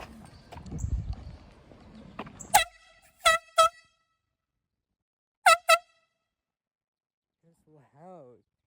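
Air horn blasts sound in quick sharp bursts, first a single blast followed by two, then a pair a little later, all loud and near, after some muffled background noise, with a faint voice at the end.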